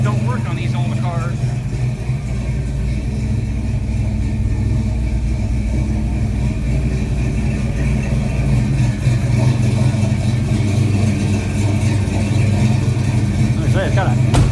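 A 1954 Chevrolet 210 sedan's engine runs steadily nearby, a deep continuous idle rumble lasting the whole stretch, with someone talking over it at times.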